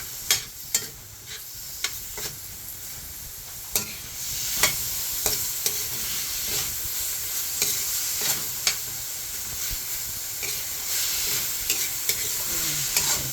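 Home-grown vegetables frying in a pan until browned, a continuous loud sizzle with regular scrapes and knocks of a spatula stirring throughout, no voices.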